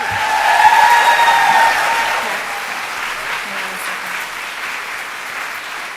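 Crowd of audience members applauding and cheering at a school board meeting, a dense wash of clapping that peaks early then gradually thins out, with scattered whistles.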